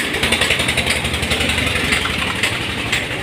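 A Sonalika 35 DI tractor's diesel engine running close and loud, a rough, steady chugging throb with a pulsing beat and a harsh mechanical rattle over it.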